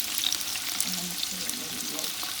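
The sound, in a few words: tomatoes frying in pan for pasta sauce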